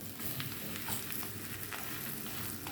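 Beef quesadilla in a flour tortilla frying in a buttered pan, giving a close, steady crackling sizzle with faint scraping, and no talk.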